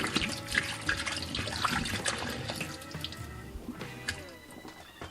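Whiskey, including a rye, is poured from a bottle down a sink drain, gurgling and splashing in a steady liquid flow with small drips and glugs, heard close and alone.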